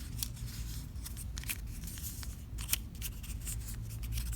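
Paper being folded for an origami drinking bird produces soft crisp rustles and creases in irregular bursts, quiet and close over a low hum.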